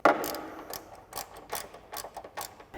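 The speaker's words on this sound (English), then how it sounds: "I'm going to take my 13 millimeter socket with my ratchet, take my wrench, hold on to this, tighten these two up first" A ratchet with a 13 mm socket tightens bolts on an aluminum side step bar on a Ford Bronco, giving a series of short, crisp clicking bursts in a quick irregular rhythm, fairly quiet and close, with no talking.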